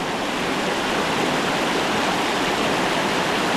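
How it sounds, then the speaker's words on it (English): Rough, fast river current in a snowy Ohio fishing spot, a loud, steady broadband rush of churning water that continues without a break and with no voices. "It's pretty rough water"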